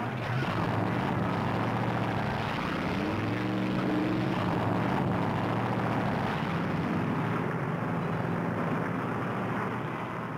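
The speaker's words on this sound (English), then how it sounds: "Gentlemen, start your engines." Forty-four stock car engines fire up and rumble together at the 1964 Darlington Southern 500, a thick continuous roar with rising engine tones before a crowd of 65,000.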